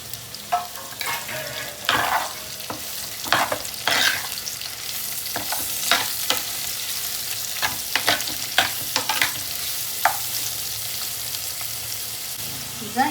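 Mushrooms fry with bay leaves in a pan for mushroom masala, a steady close sizzle broken by repeated scraping stirs and clatters of the spoon, with no voices over it.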